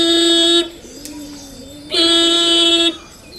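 A voice imitates a motorcycle horn: two sustained, buzzy honks, the first about half a second, the second about a second, with a quieter pause between them.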